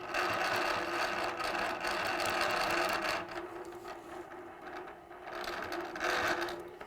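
A sewing machine stitches curved cross hatching guided by arc templates, a quiet steady mechanical whirr with rapid needle chatter that pauses and slows briefly midway before resuming.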